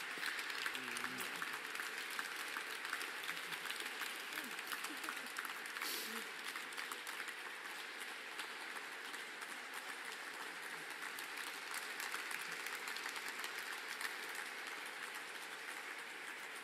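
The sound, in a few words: audience applause after lecture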